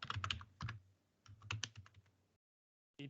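Keys clatter on a computer keyboard of poor quality in bursts of rapid typing, with short pauses and a final quick flurry after a silent gap, close and fairly quiet.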